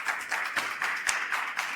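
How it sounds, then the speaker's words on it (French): A small audience claps for a participant on a French dating show, brief rhythmic hand claps close by and moderately loud, with no talk over them. "Vous pouvez l'applaudir, s'il vous plaît."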